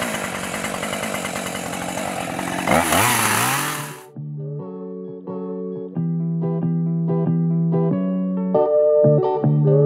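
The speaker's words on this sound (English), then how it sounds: "working a chainsaw for a few hours" A chainsaw cutting trees on a farm roars loudly for about four seconds, then cuts off abruptly, followed by a run of steady electronic tones.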